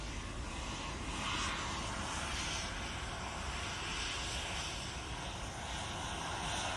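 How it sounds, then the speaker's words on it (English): Ryanair airliner at Manchester Airport, its engines a steady broadband roar held evenly throughout at moderate distance, with no talk over it. "Ryanair coming on"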